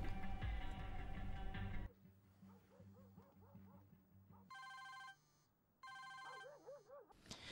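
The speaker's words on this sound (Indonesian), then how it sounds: "Kemudian tiba-tiba ponsel tersebut malah berdering." A phone rings in repeated electronic bursts, alternating with a dog whimpering and barking; loud mixed sounds open the clip.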